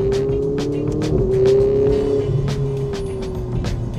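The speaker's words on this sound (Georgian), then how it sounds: "და გადართვების ხმა ეხლა Ferrari-ს რო არ შეეშლებოდა" A Ferrari engine revving while driving, a loud close drone that rises in pitch, dips briefly at a gear shift, then settles, with light clicks over the top.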